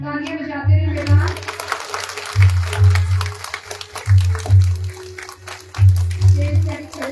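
Applause from the audience at a school results ceremony, heard in several rhythmic bursts of clapping that rise and fade, with a voice speaking over and between them.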